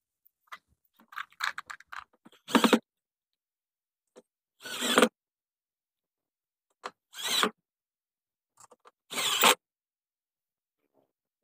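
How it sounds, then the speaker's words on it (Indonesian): Bolts are screwed in while an active speaker cabinet is assembled, heard as four short, sharp mechanical bursts spaced about two seconds apart, with small clicks and taps before them and silence in between. "Selanjutnya kita pasang bautnya dulu."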